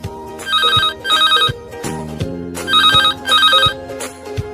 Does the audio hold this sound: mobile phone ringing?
yes